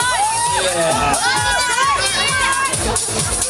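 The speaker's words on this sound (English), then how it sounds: "See, we got a cheering squad motivating." A small cheering squad at a surprise eating contest shouts and whoops close by in rising, bouncing yells, with chatter and laughter mixed in throughout.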